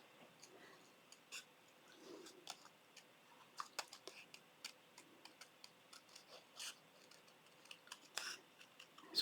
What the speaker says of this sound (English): I am not taking my scissors off the cardstock.